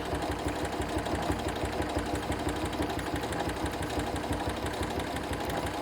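A sewing machine with a walking foot top-stitches curves along chalk lines on a quilt, running in a steady, rapid mechanical chatter at an even pace from start to finish, close by and with no speech.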